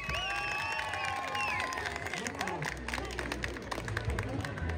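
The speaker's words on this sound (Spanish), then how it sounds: "venga el aplauso fuerte" An audience at a presidents' tournament final in Tecolutla claps and cheers in a busy, crowded space, with whistles, shouts and crowd babble layered over the applause.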